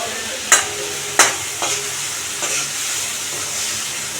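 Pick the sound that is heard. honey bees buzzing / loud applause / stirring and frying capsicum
stirring and frying capsicum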